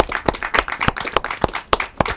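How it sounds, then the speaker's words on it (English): Scattered applause from a small audience at an alumni speaker series, a handful of distinct, uneven hand claps sounding close and sparse. "Please, everyone, let's give Mark, Laura, Demian, and Tom a round of applause"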